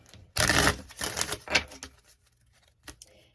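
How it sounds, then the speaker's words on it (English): A quick riffle of tarot cards being shuffled up close, a burst of crisp flapping followed by a few soft taps. "Let me shuffle my cards."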